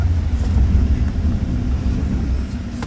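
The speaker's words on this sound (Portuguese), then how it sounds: "Nós vamos fazer uma aceleração forte no pequenininho, você vai chamar no freio." A Ram 1500 pickup's engine rumbles and roars as it accelerates hard off-road, with low heavy drone and occasional rattles and bumps, no voices.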